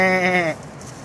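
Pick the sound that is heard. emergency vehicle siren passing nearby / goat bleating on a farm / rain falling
goat bleating on a farm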